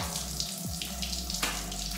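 A shower tap runs steadily while hair is washed, a continuous close hiss of flowing water with no pauses.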